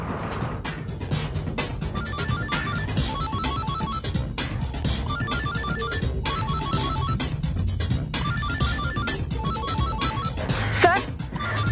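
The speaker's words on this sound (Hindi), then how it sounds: "निखिल, फोन रिसीव मत करना, बम फटेगा।" A telephone ringing in a tense TV drama scene where the phone is wired to a bomb, repeated electronic ring bursts in a steady pattern beneath continuous busy background noise and voices.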